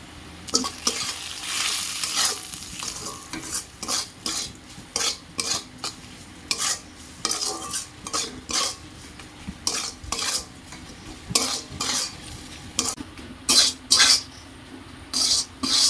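Chili, cumin and coriander spice paste frying in a pan, with a constant sizzle beneath loud, rhythmic scraping and clanking of a metal spoon stirring against the pan, close and without talk.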